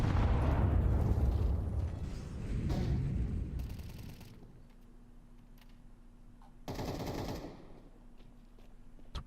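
Gunfire and grenade explosions from a competitive Counter-Strike match, opening with a loud sustained burst that fades, a second swell, then quieter sharp bursts and a hum before another short loud volley near the end.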